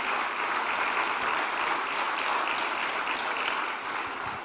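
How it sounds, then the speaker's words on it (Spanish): A church congregation claps together in sustained, even applause, a dense wash of many hands that holds steady and eases slightly at the end. "le damos un aplauso al Señor por todos nuestros hermanos en la sintonía"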